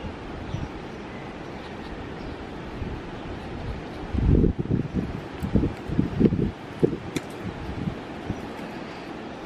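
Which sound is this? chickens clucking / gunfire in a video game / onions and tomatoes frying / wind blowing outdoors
wind blowing outdoors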